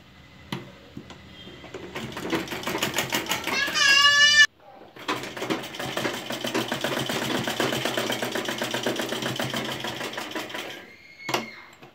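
A home sewing machine runs over elastic on a cloth face mask, whirring in two long close bursts separated by a brief stop, with a voice talking over it and a few light clicks.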